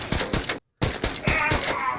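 Pistol fire in a jungle survival shooter game, rapid loud bursts of shots in quick succession, a brief silent gap, then more sharp repeated gunfire.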